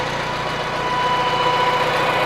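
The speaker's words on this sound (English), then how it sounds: "that whining here is the hydraulics, and that's typical of a Farmall" A 1973 IH Farmall 140 tractor with fast hitch idles steadily nearby, its engine drone carrying a thin, constant hydraulic whine above it without a break.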